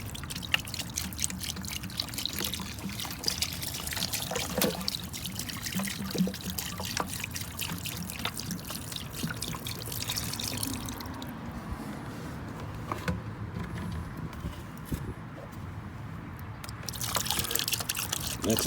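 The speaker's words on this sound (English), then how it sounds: "add water to it as well" Water trickles and pours steadily into bleach in a container for stripping denim, a continuous liquid splashing and dribbling sound held at close range throughout.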